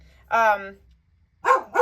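Dogs bark indoors at a passing snow plow truck: one loud bark, a pause, then two more quick barks close by, with no other sound between them.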